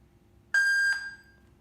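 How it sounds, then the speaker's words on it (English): An alarm system hub gives a single clear electronic beep on connecting, a steady tone lasting about half a second and then fading, alone in a quiet room. "beep one time means connected successful"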